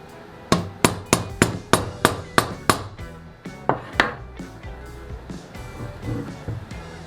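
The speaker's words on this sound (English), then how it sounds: "I had to give a little bit of tap on the top of the screwdriver, but I was able to get the screw out" A hammer taps the top of a screwdriver to work a stubborn screw loose, with about ten sharp, evenly spaced metallic knocks up close, followed by quieter, irregular taps and handling.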